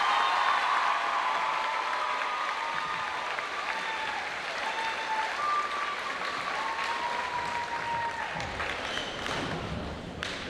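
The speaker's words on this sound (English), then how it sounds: "Welcome with me, Stanhope Elmore, with a great roar of applause for Mrs. Cheyenne Webb Weisberg." A large crowd at a high school Black History Month ceremony gives sustained applause welcoming a speaker, steady and even for about ten seconds with a faint tone running underneath.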